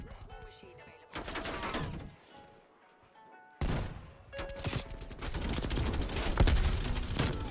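Rapid bursts of gunfire erupt in Call of Duty Cold War, with hand cannon hip fire among them: loud clustered shots in two heavy volleys separated by a quieter gap.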